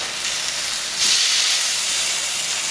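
Mackerel fillet on a hot grill sizzles in a steady bright hiss that surges louder as the fish is flipped, continuing evenly afterward.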